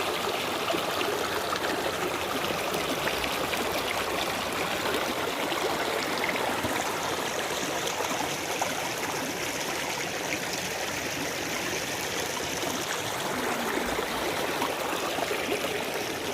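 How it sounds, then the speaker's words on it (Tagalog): A river runs with a strong current, a steady, dense rush of flowing water that holds constant at moderate loudness from start to finish with no voices. "dito malakas ang agos sa tubig."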